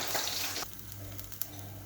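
Fish frying in oil as a quiet, soft sizzle. It is brighter for the first half second, then settles into a faint hiss with a few light ticks and clinks.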